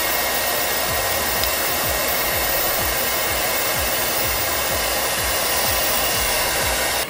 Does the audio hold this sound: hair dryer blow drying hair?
yes